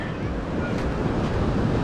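Ocean waves at Strands Beach in Southern California, a steady broadband wash of surf with gusty wind buffeting the microphone, continuous and fairly loud, no talking heard.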